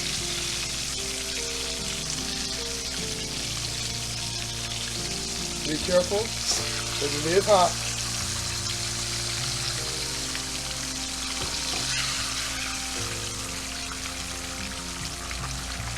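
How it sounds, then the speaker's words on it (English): Cubed steak frying in hot grease in a pan, a steady continuous sizzle with brief louder bursts of stirring or pouring near the middle, and a voice speaking briefly over it. "let's pour this grease off and start the onions"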